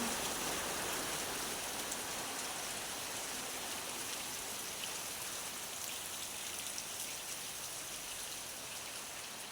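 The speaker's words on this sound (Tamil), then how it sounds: "இன்றைக்கு மழையை பாருங்க இப்படி இந்த வடிவம் நிறைய பெஞ்சு கொண்டே இருக்குது" Heavy rain falls in a constant, dense hiss that stays evenly loud throughout, with no talk over it.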